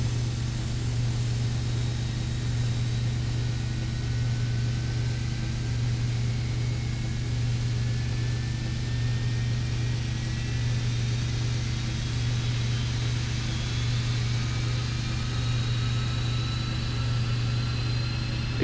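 Boeing 767-300ER engine spools up in the Prepar3D flight simulator game as a steady low drone with faint rising whine tones above it, sustained and unchanging in loudness throughout.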